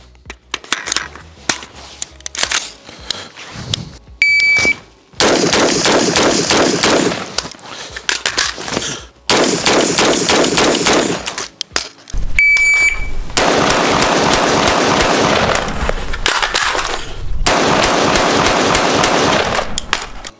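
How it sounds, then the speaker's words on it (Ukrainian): Loud gunshots from a carbine ring out in a series of six, sharp cracks with ringing echoes between pauses, outdoors with no talking. "Знову таки формуємо хват, отримуємо картинку прицілу і знову стріляємо 6 пострілів"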